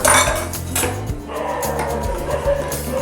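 A lid lifted off a pot of Kerala-style varutharacha chicken curry, with clattering metal and clinks of cookware up close, followed by a low simmering background.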